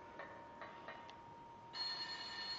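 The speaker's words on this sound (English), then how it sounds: "Oh, now the phone rings." Telephone ringing in the video game Silent Hill, faint tinny bell-like rings in short repeated bursts, then a brighter sustained tone, quiet and without talk.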